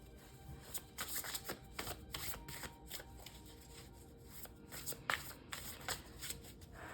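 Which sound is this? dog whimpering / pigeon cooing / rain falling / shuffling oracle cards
shuffling oracle cards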